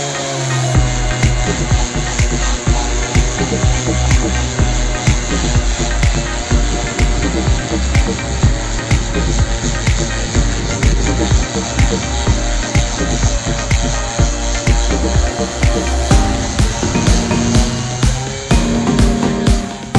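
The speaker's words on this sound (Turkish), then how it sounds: "zımparalama işindeyiz" Continuous loud abrasive grinding and rumbling, like a floor sander running steadily throughout, with shifting motor tones and no pauses, from sanding the floor of an Iveco M23 vehicle.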